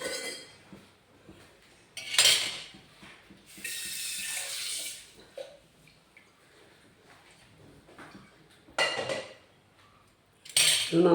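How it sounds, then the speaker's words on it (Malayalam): Cooked tapioca and beef are mixed together in a pot. A metal utensil clatters and scrapes against the pot in several separate bursts, with quieter gaps between them. "ഇത് നന്നായിട്ടൊന്ന് മിക്സ് ചെയ്യാം."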